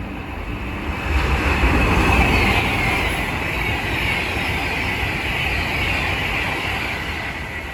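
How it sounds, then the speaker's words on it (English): An Avanti West Coast Class 390 Pendolino running from London Euston to Manchester Piccadilly rushes past, a broad steady roar of wheels and air that swells early and holds loud for several seconds. "The next train to pass by is going to be an Avanti West Coast Class 390 Pendolino from London Euston to Manchester Piccadilly."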